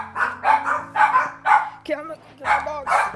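A pet dog barks in repeated bursts of about three, close and loud, over a steady hum while someone plays hardcore Minecraft.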